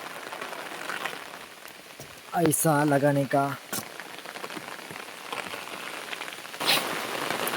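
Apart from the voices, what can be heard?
heavy rain falling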